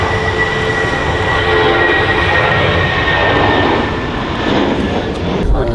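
An airliner on a Heathrow shuttle service roars down runway 23R at Manchester Airport in February 2022, a loud, steady engine rumble and whine holding throughout its short takeoff run.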